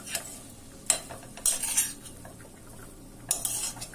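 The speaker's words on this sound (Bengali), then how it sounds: "কিছুক্ষণ পর পর এভাবে নাড়াচাড়া করতে হবে" Pumpkin pieces nearly boiled soft in a pot, stirred now and then with a spoon. Sharp metallic clinks and scrapes against the pot come in short separate bursts, close up, over a faint low simmer.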